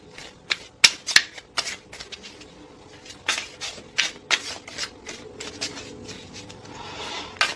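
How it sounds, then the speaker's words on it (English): Tarot cards being shuffled by hand at close range, a series of sharp riffling flutters and soft rubbing slides between them, with irregular pauses and no voice over the sound. "can I have another card for the zodiac sign?"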